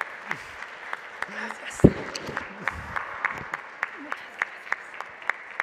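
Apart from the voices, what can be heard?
audience applause for Beatriz at a genealogy event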